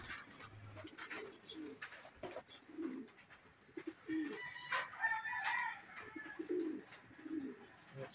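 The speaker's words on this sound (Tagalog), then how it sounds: "Ito yung mga ibon natin." Soft, low cooing of pigeons repeats through the clip, with other bird calls and chirps scattered above it at moderate loudness.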